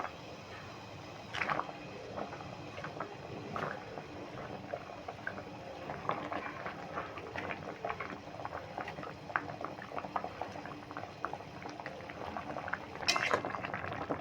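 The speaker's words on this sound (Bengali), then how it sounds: "দেখো শিরাটা ফুটছে এই সময় আমি জিলিপিগুলো দিয়ে দিচ্ছি রসে" Sugar syrup for sweet potato jilipi boils steadily in a pan, a continuous close bubbling hiss with scattered pops and a brief clink of a utensil near the end.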